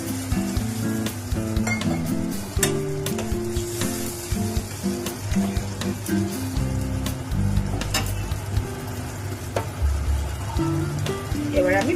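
Spiced masala in a pan hisses and sizzles steadily as water is poured in, a close, continuous frying crackle with scattered clinks of a spoon against the pan and a voice talking over it.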